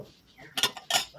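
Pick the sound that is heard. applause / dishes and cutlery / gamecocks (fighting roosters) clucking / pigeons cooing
dishes and cutlery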